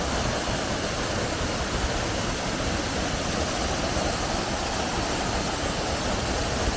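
A waterfall near Kotehra village in Pakistan pours in a steady, dense roar of rushing water that stays loud and unbroken throughout, with no voices.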